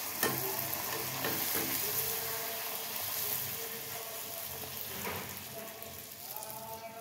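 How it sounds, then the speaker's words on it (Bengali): Food frying in a pan at home, a steady close sizzle with occasional stirring scrapes throughout, no talking. "চলো ভেজে নিই সব কটা"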